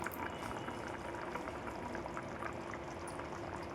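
Powder mixed with water pours into a pot of simmering pumpkin pulusu, a steady close bubbling and liquid pour that runs continuously through the whole stretch with no voices.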